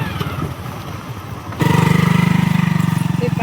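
A motorcycle engine kept at a rural home in the Sundarbans starts up partway through and settles into a steady, pulsing idle close by, after a stretch of muffled background talk and noise.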